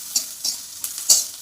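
Onion, green chilli pieces and peanuts hit hot oil with mustard seeds and cumin in an iron kadhai, giving a soft sizzle broken by four short scraping bursts of stirring.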